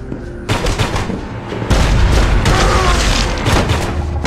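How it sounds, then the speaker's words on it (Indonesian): Gunfire and close-range shotgun blasts from a TV crime series ring out in loud, sharp bursts, a few spaced shots followed by a denser stretch of rapid firing. "tapi dia juga harus terkena tembakan shotgun dari jarak dekat yang mengakibatkan paha Donald terluka"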